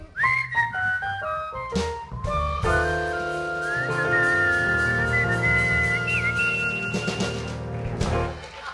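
A person whistles a short, wavering melody over a jazz quintet's backing of piano, bass and drums, the tune gliding between held notes.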